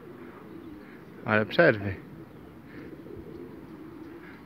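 Pigeons at a pigeon loft give a short, close, throaty coo over faint outdoor background noise, with someone speaking briefly at the same time.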